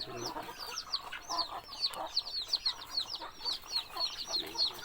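Young Thai ornamental chickens, about five to six months old, give repeated short clucks and chirps close by. The calls overlap in a quick irregular rhythm over a quiet background.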